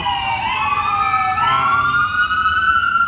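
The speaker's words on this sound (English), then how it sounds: "The ambulance is right there." A loud wailing ambulance siren sweeps up and down in pitch, close by and continuous, over steady traffic rumble on a Boston street.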